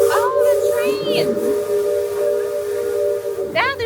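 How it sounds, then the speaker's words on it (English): Steam train whistle at Magic Kingdom, sounding in a few short, clear blasts with a wavering pitch over a steady hiss of steam, close by, with a voice and background talk mixed in. "there's the train!"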